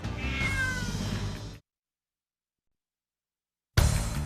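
A cat meows in a long, wavering cry, cut off by a stretch of complete silence before another loud burst of sound resumes.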